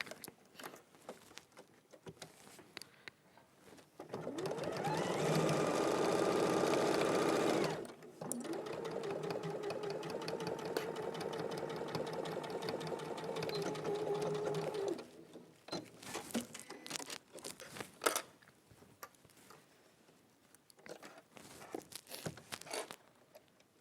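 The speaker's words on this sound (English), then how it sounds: "we're going to sew, bearing in mind you've got a 1/4 of an inch seam allowance" A sewing machine stitches a quarter-inch seam in fabric, running in a steady loud whir for about ten seconds with a short pause partway, framed by quieter handling sounds before and after.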